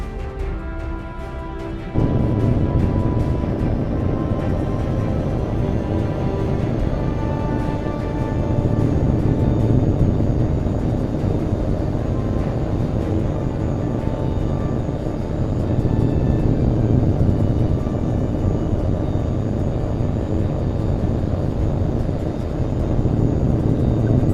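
A jet fighter in the video game HAWX 2 spools up and takes off, its engine surging into a loud, sustained roar with a rising whine that holds steady for the rest of the run.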